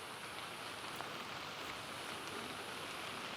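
Steady rain falls over a cemetery at night, a constant broad hiss with a few faint drips and ticks and no talking.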